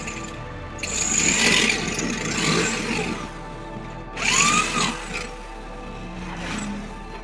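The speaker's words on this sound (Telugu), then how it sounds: "డ్రిల్ మిషన్తో ఈ విధంగా హోల్ చేసుకొని" A drill machine bores holes in a pressure cooker handle during a safety-valve repair, two loud whining bursts of drilling separated by a quieter pause, heard close with a low steady hum beneath.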